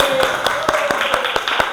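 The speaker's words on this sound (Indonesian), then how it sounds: "Oke, tepuk tangan." A few people clap hands in a slow, uneven rhythm of about eight separate claps in a room after a call to applaud at an Indonesian gathering, with a steady tone and faint background murmur beneath.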